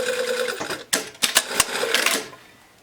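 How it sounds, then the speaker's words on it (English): A sewing machine stitches a jacket lining, with a few quick, close mechanical bursts and clacks that fade out after about two seconds. "And then we're just going to sew."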